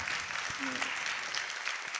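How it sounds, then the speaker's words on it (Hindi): Audience applause at a late-night All India Mushaira poetry gathering, a steady broadband clatter of many hands filling the hall, with a faint voice briefly audible beneath it. "गुजारिश करता हूँ कि भरपूर तालियाँ बजाएँ आप"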